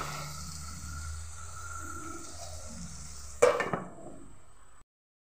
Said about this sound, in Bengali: এই যে টমেটো কুচি দিয়ে আমি এইভাবে নাড়িয়ে নিয়ে আবার ঢাকা দিয়ে দেবো